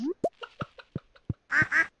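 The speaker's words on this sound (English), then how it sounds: "There's the duck." A duck in Stardew Valley gives a run of short, separate quacks and soft plops, ending in two louder, fuller quacks close together.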